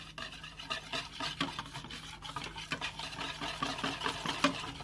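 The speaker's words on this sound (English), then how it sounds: "Now you just want to whisk all that together, and then we'll set it aside." Whisk scraping and tapping in a bowl as sauce is mixed with arrowroot starch and red chili flakes, a busy rhythmic stirring with quick repeated strokes, close and steady, no talk.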